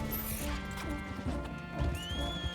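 A horse in the video game Red Dead Redemption 2 gallops with pounding hoofbeats and a whinny, set against sustained game music.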